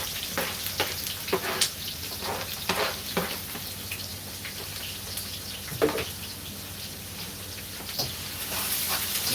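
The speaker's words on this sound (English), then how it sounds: "So I'm gonna throw all of this mixture in here and saute them." A potato mixture sautés in a hot wok with a continuous crackling sizzle, spotted with irregular pops and stirring scrapes, moderately close and steady, with no talking.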